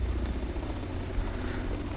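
Steady low rotor drone and engine hum of a Shergood CH-47 twin-rotor helicopter in a flight simulator game, continuous and even throughout, no voices.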